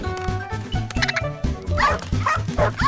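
Animated cartoon dog barking in short, repeated yips and bow-wows in a bouncy rhythm, close and loud, with a brief whimpering whine partway through; no speech.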